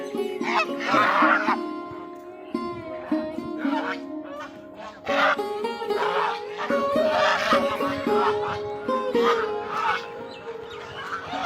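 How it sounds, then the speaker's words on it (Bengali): Geese honk repeatedly and loudly close by, a noisy flock calling over one another in overlapping nasal cries with no pause, on a char in the Padma River, Rajshahi. "রাজ হাঁস"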